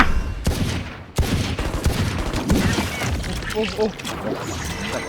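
Gunfire in the tactical shooter Valorant: a dense, loud fusillade of sharp shots and bursts over busy in-game noise and what sounds like voice chatter, with a brief lull just before the one-second mark.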